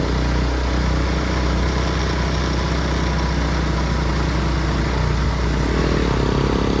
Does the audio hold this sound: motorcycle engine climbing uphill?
yes